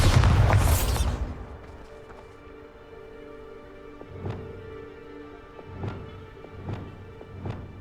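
A Bombarda spell in Hogwarts Legacy bursts with one loud, close explosive blast, then fades into quieter ambience broken by several faint, sharp pops.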